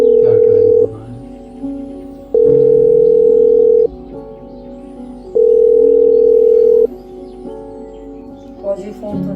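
Repeated telephone tone on a call that will not connect: three long, loud steady beeps separated by pauses, with faint background voices and household noise underneath.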